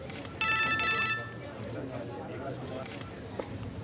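A telephone bell rings loudly in one short burst of tones lasting about a second, then fades into quiet room noise with faint movement.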